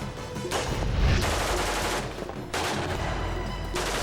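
Dense military gunfire aimed at a North Korean infiltration submarine at sea forms a continuous, loud roar of rapid shots, with slight surges and dips in intensity and no pause.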